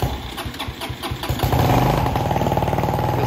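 A Venom X22GT 250cc automatic motorcycle with a Nibbi Race carburetor starts with the choke on. A few uneven cranking pulses catch into a loud, steady, fast-pulsing idle close by.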